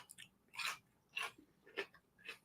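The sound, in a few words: crunchy full sour pickle being chewed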